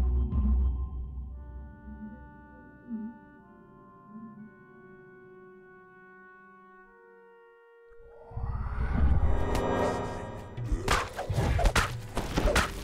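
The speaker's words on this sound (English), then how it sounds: "Your spine tingles as you hear the low moans of the undead." Low, eerie moans of the undead echo through a flooded waterworks dungeon in Dungeons & Dragons Online: long sustained ghostly tones, then heavy rumbling thuds and crashes, with no talking.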